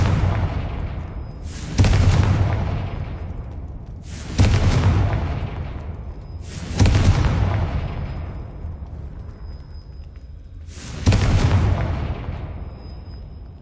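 Four loud, heavy blasts from the Confringo spell in a video game, roughly every two to three seconds, each a sharp boom that trails off into a long rumbling decay, with no talking.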